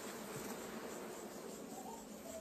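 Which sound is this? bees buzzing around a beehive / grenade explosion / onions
bees buzzing around a beehive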